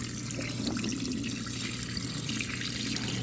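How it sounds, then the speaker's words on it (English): A HAVA portable countertop dishwasher drains, its pump pushing out soapy water in a steady rushing, gurgling flow with an underlying motor hum, close and continuous. "So we're getting all that soapy water out, and the dishwasher is pumping out the rest of the water."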